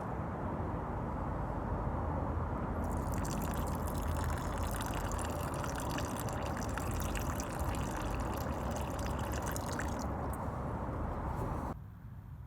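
Watering can pouring onto a climbing rose bush in a garden, a continuous close splashing trickle of water on foliage and soil that cuts off near the end, no talking.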